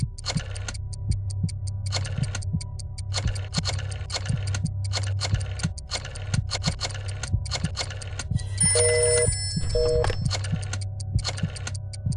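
In a Jackbox party game, a rotary phone dial clicks and whirs in repeated rhythmic bursts over a low steady hum, with a brief ringing tone partway through.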